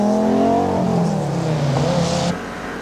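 A rally car pulls away under hard acceleration at the 1985 Hellendoorn Rally in Holland, the engine loud and close with climbing harmonic revs, then fading as it moves off.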